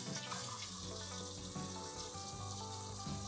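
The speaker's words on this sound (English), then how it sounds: "We are going to start adding some water." Water runs from a tap into a pressure canner set up for canning fish at home, a steady, close rushing stream that holds on without a break.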